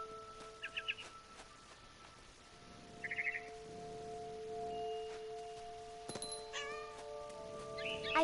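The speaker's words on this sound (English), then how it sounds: "I was a cat." A cat meows repeatedly in What Remains of Edith Finch, short cries spread across the moment over a steady in-game ambient drone, with bird chirps close by and a sharper yowl near the end.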